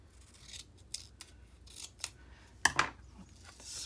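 Scissors snipping through chipboard and paper for a stash-buster journal, a series of quiet, close, crisp cuts with one sharper double snip near the end, no talking.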